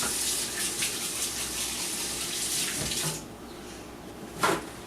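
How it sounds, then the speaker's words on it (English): Tap water runs steadily into a kitchen sink while hands are washed during home cooking of beef stroganoff, a continuous broadband gush that drops off near the end, followed by a brief splash. "Wash my hands again."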